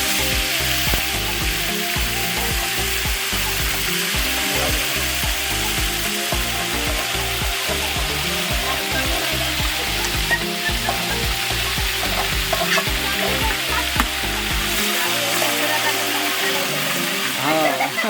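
Onion paste with garlic and ginger paste sizzling and frying in a pan at home, a steady crackling hiss with stirring and scraping throughout, while people talk over it.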